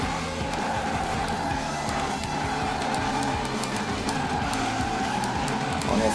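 A car drifts in the racing video game Forza Horizon 4, with the engine held high near the rev limiter and tyres skidding. The sound is a continuous, loud engine drone layered with screeching tyres.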